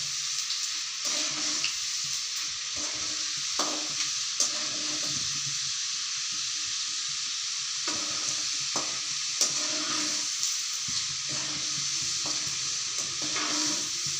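Chana dal (kadalai paruppu) frying in hot oil: a continuous, close sizzle and hiss with intermittent scraping and stirring clinks from a utensil in the pan.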